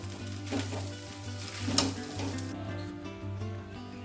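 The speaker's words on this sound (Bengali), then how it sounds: "আর এবারে ডিম ভুজিয়াটা দিলাম, ডিম ভুজিয়াটা দিয়ে একটু নাড়িয়ে নিলেই হয়ে যায়।" Chowmein sizzling in a pan as scrambled egg is added and stirred, a soft frying hiss with a few scraping stirs over a steady low hum, quieting toward the end.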